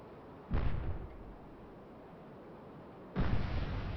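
Naval cannons firing from a surface ship in the Cold Waters submarine video game: two loud, deep booming blasts about two and a half seconds apart, each trailing off into a rumbling roar under a steady low background hum.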